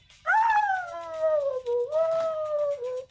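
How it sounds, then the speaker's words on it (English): A dog howling along to music, one long wavering howl close by, rising sharply then sliding down, dipping and resuming for about three seconds over a faint low beat. "You hear my dog in the back singing, bro?"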